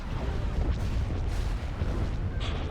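Weapons fire in the space battle game Age of the Rebellion, a dense, rumbling barrage of low booms and blasts rolling continuously without a break.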